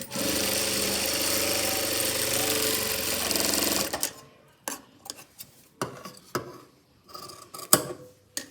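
A sewing machine runs steadily for about four seconds while stitching a blouse, a dense continuous whir, then stops and gives way to scattered short clicks and taps of handling.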